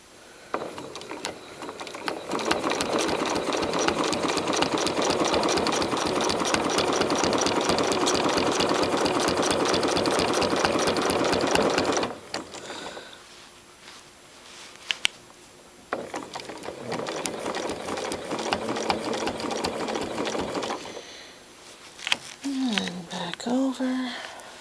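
A sewing machine runs in long, rapid bursts, stitching crosshatch quilting lines around an applique, stopping for a pause in between, with a voice talking quietly once the stitching halts near the end.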